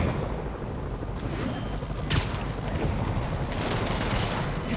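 Sustained gunfire and explosive booms in Marvel's Spider-Man video game, bursts of shots rattling over a constant rumbling battle bed, with faint radio-style voices beneath.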